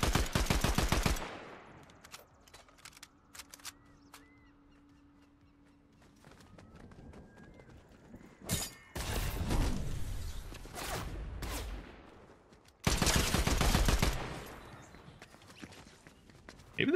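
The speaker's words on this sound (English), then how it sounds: "Who's shooting at me?" Bursts of Fortnite Zero Build gunfire, loud rapid volleys at the start, middle and near the end, with quieter stretches of footsteps and small game sounds between them.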